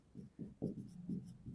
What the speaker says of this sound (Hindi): हम लिखेंगे